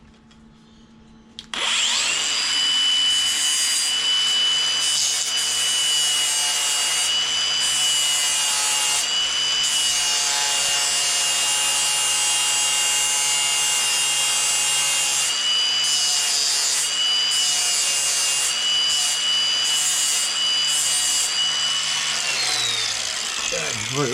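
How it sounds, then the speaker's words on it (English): An angle grinder trims a corner of rusty Ford Falcon body metal at the driver's side plenum, giving a loud, steady high-pitched whine that runs almost unbroken for more than twenty seconds before spinning down. "I need to get the grinder and just trim this corner here."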